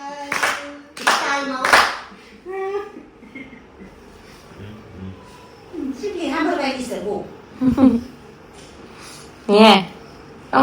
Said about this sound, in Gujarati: કેવી એન્ટિક તાળી પાડે છે